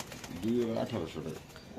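Pigeons give a short, soft coo from nearby, quiet amid the background noise of a bird market where pairs are being sold.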